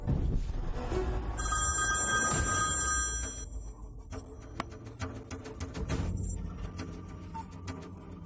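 A telephone rings repeatedly in a South Indian movie scene as a call is placed, loud electronic trills for several seconds over background noise, then quieter clicks and rustles, with no talk.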